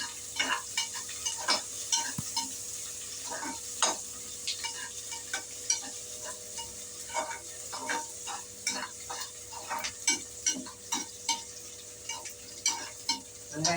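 Star anise, cloves, cardamom, bay leaf and onion frying in oil for mutton biryani, with a low sizzle broken by repeated sharp clicks of a spoon stirring against the pan, close and with no voices.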